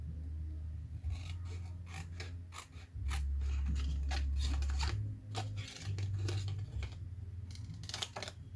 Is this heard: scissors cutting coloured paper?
yes